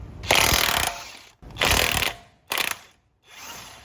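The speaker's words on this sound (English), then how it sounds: "we're going to remove these bolts off the back of the caliper bracket" A ratchet loosening the bolts on the back of a brake caliper bracket during a BAER Big Claw brake kit install, with three close bursts of rapid clicking separated by short pauses.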